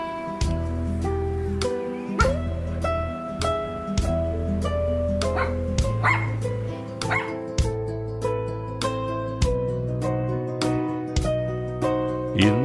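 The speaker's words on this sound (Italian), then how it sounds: "un simpatico cagnolino difende il suo territorio" A small dog barks repeatedly and close by while guarding its territory in a mountain hamlet, sharp yapping barks coming in a steady, insistent rhythm.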